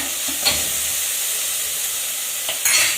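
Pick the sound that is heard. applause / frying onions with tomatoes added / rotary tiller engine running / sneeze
frying onions with tomatoes added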